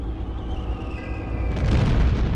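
A deep, rumbling bomb blast from a German air raid on a British city in the Blitz, a sustained low roar swelling louder toward the end with no voices.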